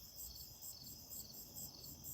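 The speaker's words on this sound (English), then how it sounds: "There's no one around and it's quiet and there's just crickets" Crickets chirp outdoors on a quiet night, a faint, steady pulsing trill with a regular rhythm and nothing else around.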